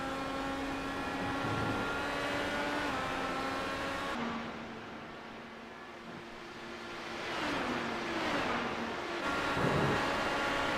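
An IndyCar race car in iRacing at Road America drones with a steady engine whine that dips and climbs through gear changes and corners, heard alone at moderate volume.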